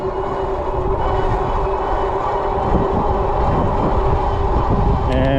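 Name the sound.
wind noise while riding Troxus Lynx Plus e-bike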